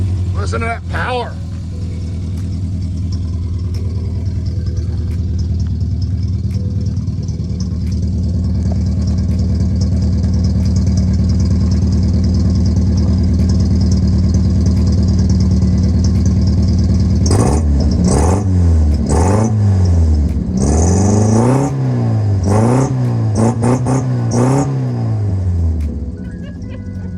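A Volvo Amazon wagon engine idles with a steady low rumble, then revs up several times in rising and falling bursts, loud and close throughout.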